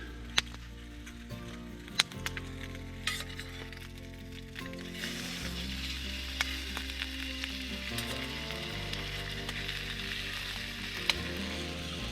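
Bacon frying on a camp stove in the remote wilderness, a continuous close sizzle and crackle with occasional sharp pops and a low steady hiss throughout.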